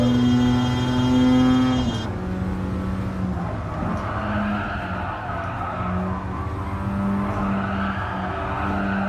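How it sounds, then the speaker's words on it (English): A lightweight rotary-engine race car in the Gran Turismo Sport video game revs with a high, buzzing engine note that shifts pitch through gear changes, while tires squeal and skid through corners, loud and continuous. "Again, rotary engine, really lightweight."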